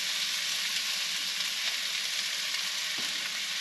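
Minced onions sizzle in hot coconut oil in a pan, a steady, close frying hiss with faint stirring clinks, no talking.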